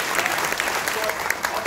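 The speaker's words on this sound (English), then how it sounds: "So I want to give them all a huge round of applause." A crowd at a Greens national political campaign launch gives a burst of applause, a dense, even patter of many hands clapping at moderate loudness.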